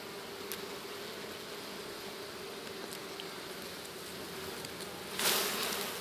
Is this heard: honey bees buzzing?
yes